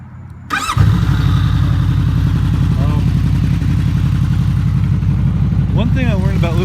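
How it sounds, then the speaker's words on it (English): Honda VFR800 Interceptor motorcycle fitted with a lithium battery cranks briefly and fires right up, settling into a steady, loud, close idle with a faint voice near the end. "start it up for you. Listen to how nicely it starts up now."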